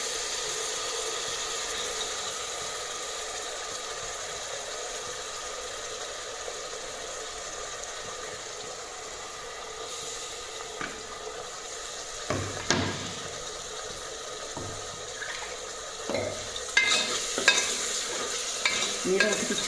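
A paste of ground coconut, ginger, coriander and garlic fries in a pan for mutton curry, giving a steady sizzle with occasional scraping stir strokes that grow busier toward the end.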